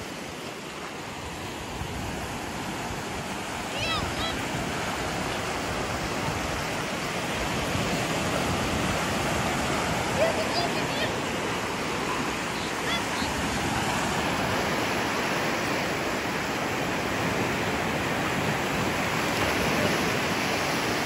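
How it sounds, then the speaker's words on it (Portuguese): Sea waves wash steadily onto the shore at sunset, a continuous broad roar of surf that stays even and fairly loud throughout with no clear talk. "O som do mar, ó."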